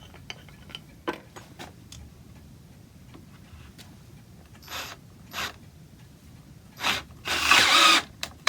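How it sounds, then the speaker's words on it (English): A drill boring an 11mm hole into a wooden plane handle, heard as short scattered bursts and clicks that build to a louder grinding run near the end, with no talking. "we need to drill in a little bit deeper"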